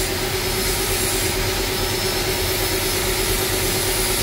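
A TVS Apache 310 RR motorcycle with a drilled-out (bobok) exhaust runs at a steady idle, a loud continuous engine drone with a low throbbing hum and no talking.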